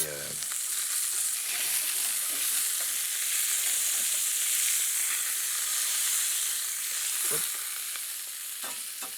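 Seafood browning in a hot pan, giving a constant loud broadband sizzle and hiss that holds steady throughout, with a few faint clinks of a utensil against the pan and no talking.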